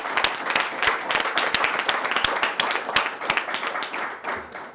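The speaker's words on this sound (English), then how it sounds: "Let's give her a round of applause again." An audience at a New York City public school event with the mayor applauds steadily, many hands clapping in a dense, moderately distant patter for several seconds with no speech over it.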